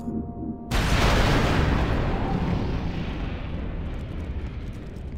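A single large explosion in Star Wars Republic Commando's underground foundry bursts in suddenly after a quiet hum, then rolls into a long, loud rumbling decay that slowly fades over several seconds.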